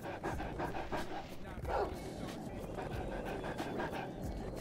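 A dog in the skateboarding game Tony Hawk's Underground pants in fast, rhythmic breaths, close and steady under game sounds, with a short whine-like rise partway through.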